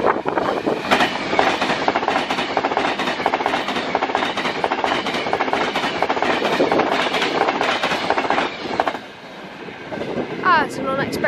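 Avanti West Coast passenger train speeding through Crewe station, a loud sustained roar with rhythmic wheel clatter over rail joints for most of the pass, then dropping away near the end as a faint squeal follows.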